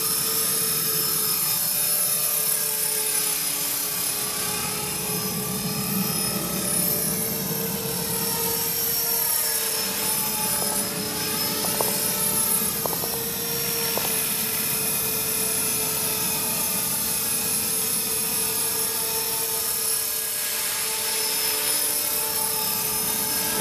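A radio-controlled HK450 helicopter flies steadily with a continuous high-pitched rotor and motor whine that stays loud and even throughout, with no voices.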